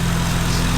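Acura TL fitted with an aFe Takeda cold-air intake, its engine running steadily in a garage, a constant low droning hum with no clear rise or fall over the brief moment.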